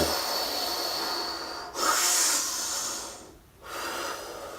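Deep, slow breaths during a recovery training breathing exercise, each long airy inhale and exhale close and loud, with a brief pause between them and no talking.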